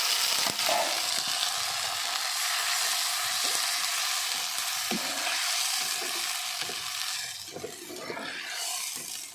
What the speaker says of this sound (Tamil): இப்போ வெங்காயம் நல்லா வதங்கினதுக்கப்புறமா நம்ம நறுக்கி வச்சுட்டு தக்காளி போட்டுக்கலாம்